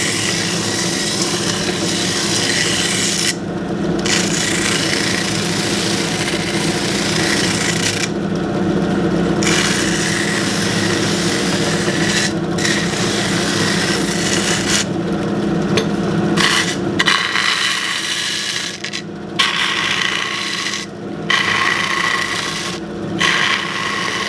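A shop sander working along wood edges, a steady rasping, rubbing drone at close range that runs almost unbroken, with short pauses and shifts in pressure.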